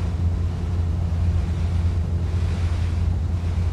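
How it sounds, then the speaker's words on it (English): In Microsoft Flight Simulator with the FSRealistic Pro addon, airframe wind makes a steady, dense rushing roar with a heavy low rumble that carries on unbroken with no voices. "And the airframe wind sound changes as well according to your controls movement."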